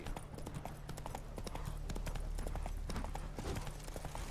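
Horse hooves clip-clop at a steady trotting rhythm in The Witcher 3 video game, close and clear over a low background hum, with brief game speech around them.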